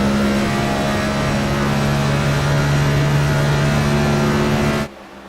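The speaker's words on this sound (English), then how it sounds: "You hear the tires squealing, car revving, trying to make something happen, anything that he can." A car in a stock-car racing video game revs loudly and steadily in a sustained engine drone that cuts off abruptly near the end, with no clear tire squeal.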